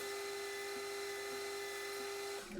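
A metal lathe drilling an 8mm hole in a steel workpiece, a steady whining hum with a high-pitched tone held throughout, faint and even, easing off at the end.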